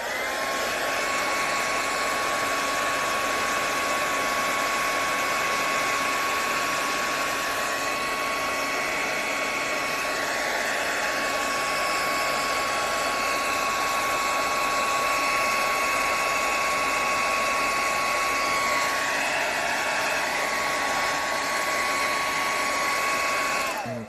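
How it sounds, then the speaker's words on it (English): A hair dryer blows with a steady, loud whooshing whir and a faint high whine, running continuously without pause before cutting off at the end. "Let's get a bit of a hairdryer on this."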